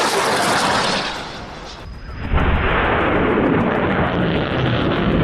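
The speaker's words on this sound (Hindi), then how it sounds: "जिसमें कई रॉकेट्स एक साथ फायर होते हुए नजर आ रहे हैं" Several rockets launched together in the Gaza conflict, a dense, roaring rush of ignition and exhaust that dips briefly, then surges again into a sustained loud blast.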